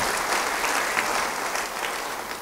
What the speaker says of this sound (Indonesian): Beri tepuk tangan yang baik bagi dia.